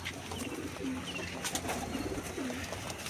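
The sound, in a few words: pigeons cooing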